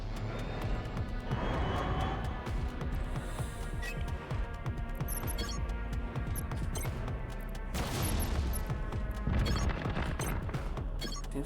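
Scrap cannon volleys in the space strategy game Crying Suns, a dense barrage of booming, crashing impacts and blasts layered over a continuous roaring game soundtrack, loud throughout with heavier bursts near the middle and end.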